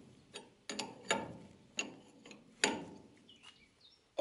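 A 19 mm ratchet wrench turns a nut on the front axle of a Citroën Traction 11B, giving a few separate metallic ratcheting clicks in uneven bursts, close and fairly loud, with no talking.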